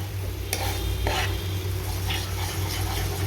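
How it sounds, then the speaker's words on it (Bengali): A soaked spice paste sautés in oil for a quick chicken dish while a spatula stirs it; a few sharp scraping strokes cut through a loud, steady close-up sizzle. "দিয়ে এখন ভালো করে নাড়িয়ে ছাড়িয়ে এটাও একটু কষিয়ে নেব"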